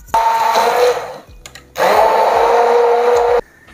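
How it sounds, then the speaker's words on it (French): A blender whirring through carrot velouté with cream, two loud sustained bursts of motor roar separated by a short pause, close up and alone. "Une fois qu'on a mixé notre velouté"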